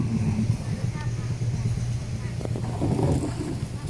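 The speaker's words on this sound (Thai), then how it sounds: "แต่เขากำลังจะเข้าเทียบเรือ" A longtail boat's engine drones steadily as the boat comes in to dock at a pier on Songkhla Lake, a continuous low rumble with water and wind noise, heard alongside talk.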